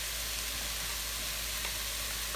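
Chopped peppers and onions sizzle and fry steadily in a hot pan, a constant dense hiss with faint crackles and no talking.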